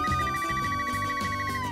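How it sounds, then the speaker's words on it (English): A phone rings with a steady electronic pulsing tone that repeats quickly, heard over busy background music in a Ruby Gillman themed doll and toy story. "Suddenly the phone rang."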